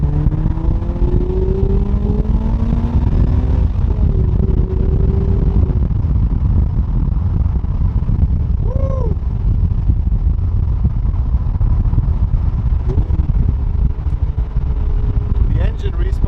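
A 2006 Lotus Elise with its 2ZZ engine accelerates while driving, a steady loud engine drone rising in pitch through the gears, heard from inside the car with occasional voice sounds over it.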